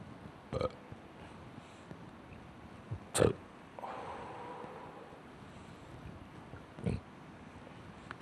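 A person belches several times, short and low, over a steady windy outdoor background, with a few brief separate bursts spread across the stretch.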